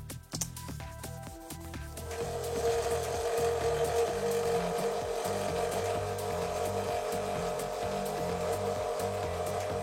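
An old Dremel scroll saw cuts wood for a model train bridge, giving a steady, loud mechanical buzz with a rhythmic low chatter that runs throughout, after a few sharp clicks at the start.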